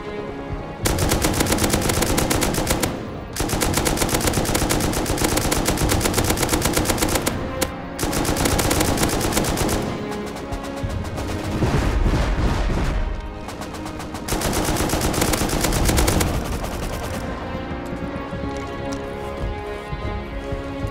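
Loud bursts of rapid automatic gunfire in the video game Rust, aimed at helicopters, come in several long volleys separated by brief pauses, with no talk over them.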